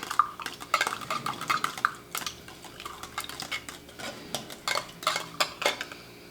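Pork chop and rice casserole ingredients being mixed in a baking dish, giving a run of close, irregular clinks and scrapes of a utensil against the pan, fairly quiet and continuous with no talking.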